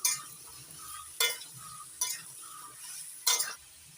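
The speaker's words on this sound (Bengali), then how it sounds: "এবার ঝিঙেগুলো 2 মিনিট নাড়াচাড়া করে নেব।" Sliced ridge gourd is stirred in a pan over hot oil with tempering spices: a steady soft sizzle broken by repeated scraping strokes of a spatula against the pan, close and moderately quiet, with no talking.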